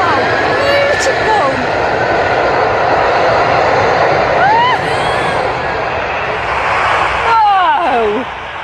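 Large transport aeroplane carrying an aircraft wing, its engines a broad, steady roar up close that swells slightly and then eases off, with a few faint tonal sweeps over it.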